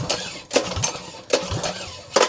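Small 196cc/212cc single-cylinder engine with replaced dual charge coils idling close by, a rough, uneven putter with strong irregular pulses roughly every half to three-quarters of a second.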